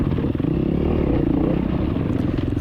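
A dirt bike engine during a cross country race in Westernport, Maryland, roaring loud and close with a steady, rough drone throughout and no talking.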